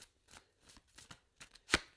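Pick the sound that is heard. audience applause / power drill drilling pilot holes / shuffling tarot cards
shuffling tarot cards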